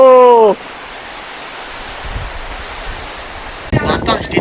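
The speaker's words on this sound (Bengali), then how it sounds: "এই গাছগুলো দেখলেই বুঝতে পারছেন কি পরিমাণ বাতাস দিচ্ছে" Strong wind drives rain across the hills of Sajek Valley in a steady, rushing roar. A voice is heard briefly at the start and again at the end.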